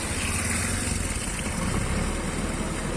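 A JCB excavator's engine runs steadily nearby while it loads garbage into a truck, giving a continuous, loud mechanical drone with no breaks.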